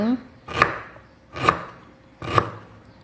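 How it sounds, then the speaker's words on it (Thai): Three sharp knife chops cut ginger on a cutting board at an even, unhurried pace, close and distinct with quiet pauses between them. "เราก็หั่นขิง"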